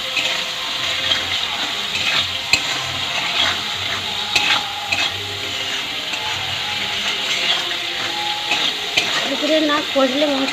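Tomato, salt and spice masala for chicken kosha sizzles steadily in a pan while being stirred, with repeated scraping clicks of the spoon over a constant frying hiss.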